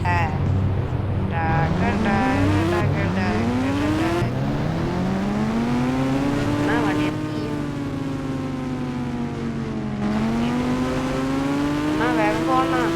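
Ghost Rider bike from Indian Bikes Driving 3D racing with a steady engine drone whose pitch sweeps upward again and again as it accelerates through the gears, loud and continuous throughout.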